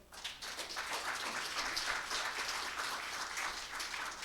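A church congregation claps for the Lord, a lively, fairly loud burst of many hands with an uneven, rippling rhythm that continues throughout.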